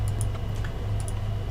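Computer keyboard typing while entering code for a programming exercise, with quick irregular key clicks close by and a steady low hum underneath, no talking.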